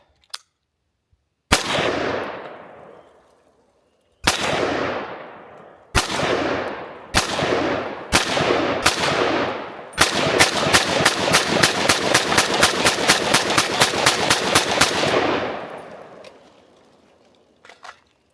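ATI AT-47, an American-made AK rifle, fires loud, close shots: several single shots spaced apart, then a rapid run of about twenty quick shots, each with a booming decay, no talking.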